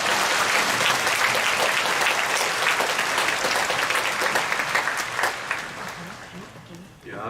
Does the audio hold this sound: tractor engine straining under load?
no